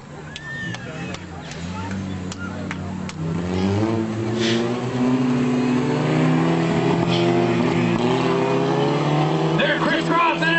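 Several stunt car engines roar and rev loudly as vehicles race past nearby on a track in Reading, Pennsylvania, in 2004, the droning pitch rising and shifting, while an announcer talks over the noise.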